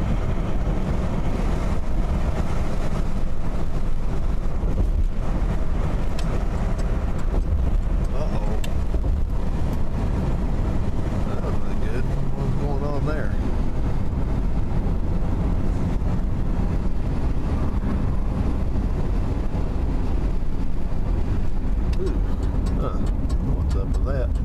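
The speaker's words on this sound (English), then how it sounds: "always windy down here in muddy flats." Steady wind rushes and buffets the microphone the whole time on mud flats, a loud, low, continuous roar with faint indistinct voices beneath it.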